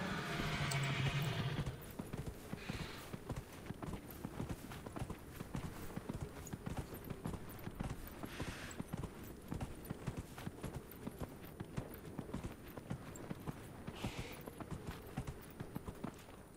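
Horse hooves clip-clop steadily and rhythmically through a video game set in the Hissing Wastes, a continuous mid-distance trot lasting well over ten seconds with no talking over it.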